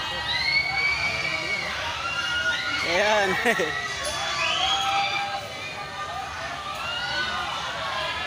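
Crowd of riders screaming together on a ride at Enchanted Kingdom amusement park in Sta. Rosa, Laguna, the shrieks rising and falling in waves at a distance, with someone talking over them nearby.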